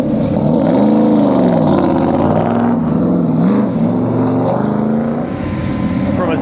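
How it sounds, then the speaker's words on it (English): A 1969 Corvette with a 427 ZL1 engine rumbles past at a car show, its deep, loud exhaust note rising and falling in pitch as it moves close by, with crowd noise underneath. "69 Corvette, 427 with a ZL1 engine"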